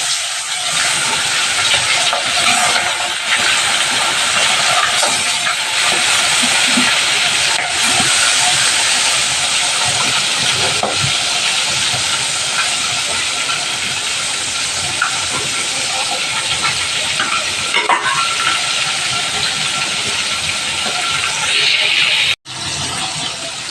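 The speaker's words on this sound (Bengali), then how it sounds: "দেখো মাছগুলো ভেজে নেব।" Fish fry in hot oil with a loud, continuous hissing sizzle that barely changes, broken only by a brief drop near the end. No voices are heard.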